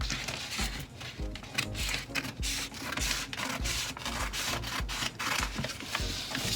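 Scissors or a blade cut through a paper swimsuit pattern, giving repeated rough rubbing and rasping strokes in an uneven rhythm, close and fairly quiet.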